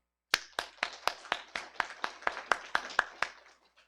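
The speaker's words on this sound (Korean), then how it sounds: "하나님께 영광의 박수." A congregation in church gives about fifteen steady, evenly spaced claps in unison, sharp and fairly close, ending with a soft trailing tap.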